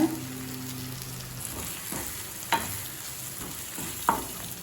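Ground spice powder hits capsicum frying in a pan for capsicum rice and sizzles softly and steadily. Several sharp scrapes and taps of stirring sound close by, with no talk.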